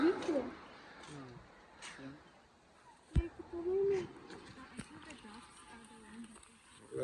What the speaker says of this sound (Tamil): லோக்கல் பேர்ட்ஸ் தான் லோக்கல் பேர்ட்ஸ்